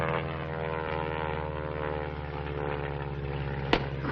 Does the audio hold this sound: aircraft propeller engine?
yes